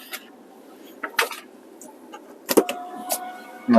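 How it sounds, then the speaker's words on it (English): Electric moonroof on a 2023 BMW 230i coupe motoring open inside the cabin, a faint steady whir with a few soft clicks and thumps, ending in a louder mechanical stop near the end. "Opening up the moonroof here."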